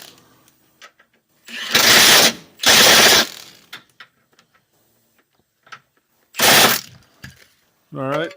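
A ratchet tightens the two rear bolts on the lower control arm of a 2013 Mazda CX-5, in three loud, close bursts of rapid clicking separated by pauses and small tool clatter.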